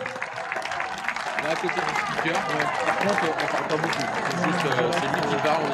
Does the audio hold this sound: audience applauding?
yes